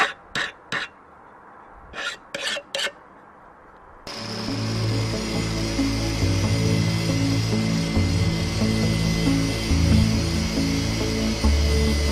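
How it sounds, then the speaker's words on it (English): An angle grinder bites into a steel file to shape a knife blade bevel, a loud continuous whine with sustained tonal grinding after a few short bursts of sound at the start. "I will start with the angle grinder because there's a lot of metal to take off"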